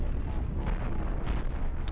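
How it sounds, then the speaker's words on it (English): Ship cannons in Cosmoteer fire off in a steady run of dull, booming blasts under a rumbling space-battle din, followed by a sharp bright crack at the very end. "We got a couple of cannons firing off."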